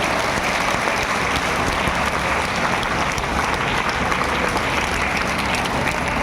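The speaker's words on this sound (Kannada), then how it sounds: "ಎಲ್ಲರೂ ಜೋರಾಗಿ ಕೈ ಮೇಲೆತ್ತಿ ಚಪ್ಪಾಳೆ ತಟ್ಟೋ ಮೂಲಕ ಈ ಕಾರ್ಯಕ್ರಮದೊಳಗೆ ಭಾಗಿಯಾಗೋಣ" Students at a Basava culture festival event clap together in loud, sustained applause, a dense even roar of many hands with no pause throughout.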